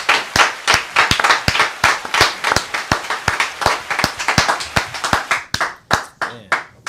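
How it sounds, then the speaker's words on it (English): Live podcast audience applauding in a long, steady rally of sharp handclaps, loud and close, thinning into a few scattered claps at the end. "Long rally of claps."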